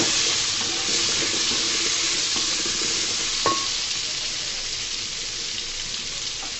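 Potato and pointed gourd with a little turmeric being stirred in a hot pan, a steady sizzle of frying with soft scraping and one brief clink of the utensil, close and alone.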